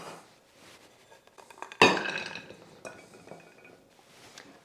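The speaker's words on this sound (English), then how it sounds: "Now put the berry mixture in a 2-quart baking dish" A berry mixture tipped into a 2-quart baking dish, with one sharp clink of utensil or dish, then softer scraping and clattering nearby, close and without talk.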